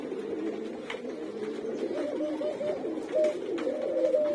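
Pet doves coo steadily and close by in a backyard enclosure, their soft low calls repeating in overlapping rounds with no pause throughout.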